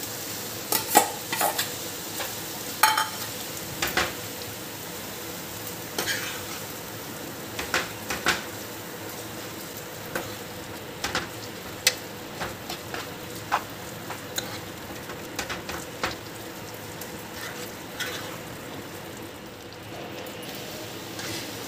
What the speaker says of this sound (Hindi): अब इसमें ये मटर डाल देंगे।